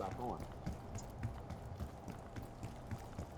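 Player footsteps in Call of Duty on the Racket map, a steady run of soft thuds repeating through the whole stretch at moderate level under continuous game ambience and voice chatter.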